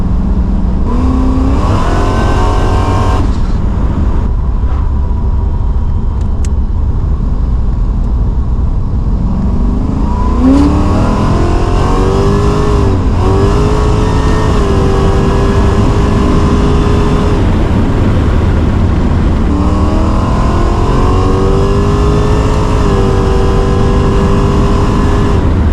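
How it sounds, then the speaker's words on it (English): A supercharged Holden VL Calais engine with a Harrop 2300 blower runs hard at high revs, loud and continuous. Its pitch climbs and dips through several rising sweeps, with huffing, spluttering breaks between pulls. "Bit of huffing and spluttering then at higher RPM"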